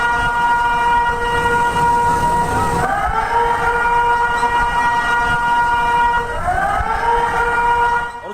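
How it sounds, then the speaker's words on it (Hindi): Warning sirens wail across Japan during an earthquake, a loud, steady multi-tone drone that dips and swells in pitch twice, sounding continuously with no voices. "सायरन बजने लगे जापान में।"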